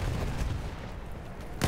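Battlefield 1 video game gunfire rumbles as a heavy, continuous battlefield din with low booming shots, ending in a sharper, louder crack.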